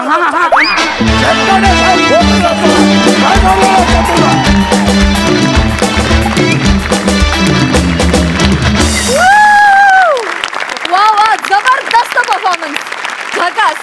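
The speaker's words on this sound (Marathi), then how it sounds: "जोरदार टाळ्या." A comedy show audience breaks into loud, sustained applause that swells near the end, mixed with a loud music sting and a performer's voice over much of it.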